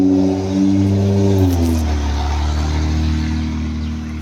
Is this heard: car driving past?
yes